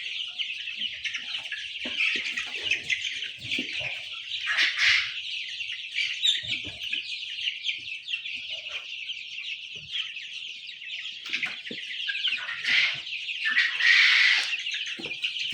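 Desi (Sonali) chickens on a farm cluck and call steadily throughout, a dense flock sound close by with no talking.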